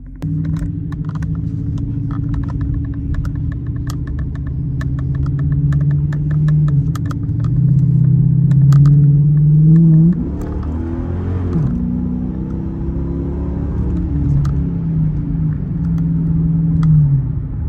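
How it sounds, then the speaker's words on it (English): A Dodge Hellcat V8 idles with a deep steady rumble after a remote start, then swells into a throaty rev around the middle before settling back to a loud, even idle; no talking. "I'll do some revs, you know. I'll do a cold start."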